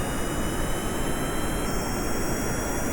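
A jet engine in Kerbal Space Program throttles up on an airplane rolling forward on the runway, a steady loud broadband roar with a high whine that shifts pitch partway through, alone without talk.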